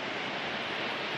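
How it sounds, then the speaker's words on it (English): Steady broadband rush of the High Falls waterfall in Northern Minnesota, heard from above looking down the falls, a constant even roar with no voices. "Just looking down the waterfall,"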